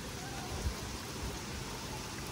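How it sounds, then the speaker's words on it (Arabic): Steady rain falls outdoors as a soft, even hiss with occasional louder drops, faint and continuous throughout. "شوفوا تبارك الله الشتا"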